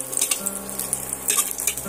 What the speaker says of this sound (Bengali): কাজু বাদামগুলো আমি ঘিয়ের মধ্যে দিয়ে একদম লো টু মিডিয়ামে আঁচে দিয়ে কাজুগুলো আমি সুন্দর করে একটু হালকা ব্রাউন হয়ে গেলে কাজুগুলো আমি ভেজে নেব।